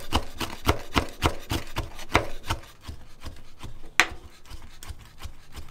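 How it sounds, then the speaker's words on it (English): A knife chops dried mushrooms into small pieces on a wooden board for Vietnamese fried spring rolls, in a steady series of close, crisp strikes that slow and thin out toward the end. "next I will chop these dry mushroom into like small pieces"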